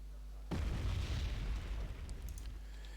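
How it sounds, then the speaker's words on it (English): Patriot missile launches and impacts in the Wargame Red Dragon video game: a sudden loud boom followed by sustained rumbling blast noise with crackling bursts, no talk over it. "Patriot fires another. It hits. And it fires a third or fourth one."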